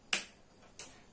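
A single hand clap in a classroom clapping game, two short, crisp snaps about two-thirds of a second apart, close and fairly faint, the second softer than the first.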